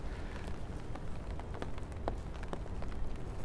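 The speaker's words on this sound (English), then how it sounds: "going to have some lovely rain sounds" Steady rain falls on a New York City street on Fifth Avenue near the Guggenheim on New Year's Eve, a dense constant patter with scattered sharper drops, close and even throughout, with no voices.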